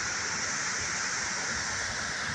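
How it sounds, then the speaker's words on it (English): A waterfall near an old dam pours with a dense, steady hiss and rush of falling water, loud and close, filling the whole moment without any voices. "I didn't even know this waterfall was over here."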